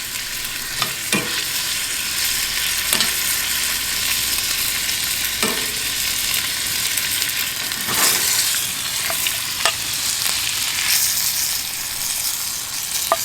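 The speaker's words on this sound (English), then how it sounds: "Gotta love that sizzle, right?" Onion, garlic and shrimp sizzle steadily in a hot pan, a close, continuous frying hiss broken by occasional clinks and scrapes of a utensil stirring the food.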